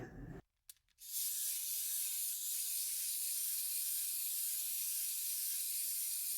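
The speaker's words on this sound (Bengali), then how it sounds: "তেল গরম হয়ে গেছে, এখন পাঁচফোড়ন দিয়ে দিয়েছে। এবার কাঁচা লঙ্কা ফোড়ন দিয়ে দিচ্ছে।" Panch phoron and green chillies drop into hot oil and burst into a loud, steady sizzle. A short crackle comes first, then the hiss holds close and constant.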